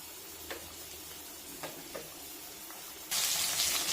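Kerala-style fish fries slowly in a pan, one side at a time, with a low hiss and a few small ticks and pops before the sizzle suddenly swells into a loud, bright, steady crackle.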